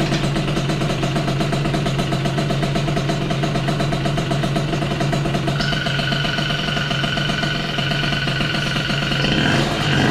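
A Yamaha Aerox moped engine idles roughly and unevenly at close range, a steady mid-pitched rattle that wavers and shifts tone partway through as it struggles to keep running.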